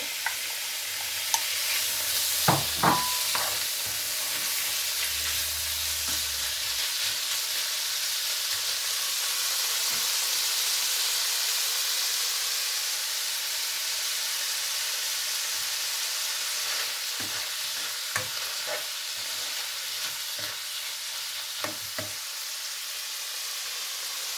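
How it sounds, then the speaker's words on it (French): Seafood sautés in oil for a seafood risotto, a steady close sizzle lasting throughout, broken by a few sharp knocks and scrapes of stirring. "dans de l'huile, on fait revenir les fruits de mer"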